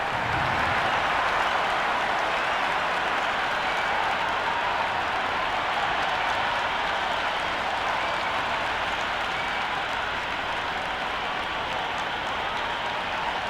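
A large cricket stadium crowd in a video game of an India vs New Zealand T20 match roars continuously, a dense wash of cheering and clapping that stays loud and steady throughout.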